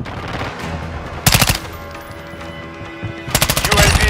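Automatic gunfire in a video game shooter comes in two loud, rapid bursts separated by a quieter stretch of game ambience, each burst a dense string of close shots.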